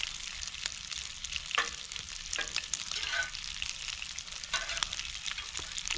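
Pancakes frying in a pan over a campfire, a steady crackling sizzle with bursts of spatter running throughout, close and fairly loud.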